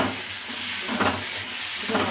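Potatoes and soya chunks sizzle in a frying pan under a steady hiss, with a few scraping stirs of a spoon at intervals, close and moderately loud.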